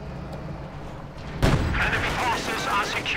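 Tank cannon fire from a T-34 in the real-time strategy game Company of Heroes 2, a single sharp boom partway through followed by battle rumble, all beneath a steady background of game ambience.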